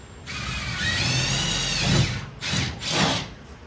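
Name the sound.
power drill driving a screw into metal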